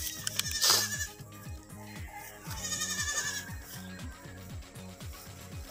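Goats bleat on a farm at a livestock cooperative, a few bleats over a steady rhythmic mechanical chugging in the background, moderately near.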